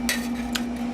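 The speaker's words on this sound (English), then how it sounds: "and I start hammering it, the outside edge, on one of the straight parts." Two quick sharp hammer blows on the outside edge of a steel gauntlet cuff held on a flat-top, round-edged stake, close and alone over a steady background hum.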